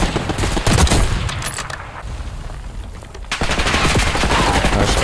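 Rapid gunfire from a Search & Destroy shooter video game, loud and continuous bursts of shots throughout, with a brief lull midway before the firing picks up again.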